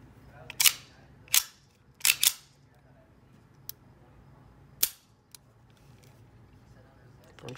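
A 1917 Colt Model 1903 pocket pistol in .38 ACP is test fired: four loud, sharp shots, two of them close together, then a fifth after a pause, with a couple of faint clicks between them.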